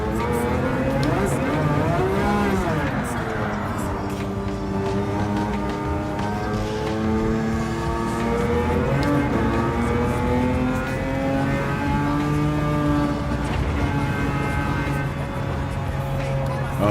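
Race car engine in Gran Turismo 7 revving hard and steady near 7,000 rpm, loud and continuous with rising and falling pitch sweeps through gear changes, dominating the whole stretch.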